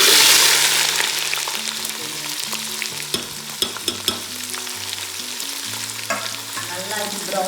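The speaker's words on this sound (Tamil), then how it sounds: "நல்லா ப்ரௌனிஷ் ஆகிற வரையும் நம்ம நல்லா ஃப்ரை பண்ணணும்" Sliced big onions and green chillies fry in a pan for mutton biryani, a steady loud sizzle that eases slightly, with occasional sharp clinks and scrapes of stirring and a low tonal hum underneath.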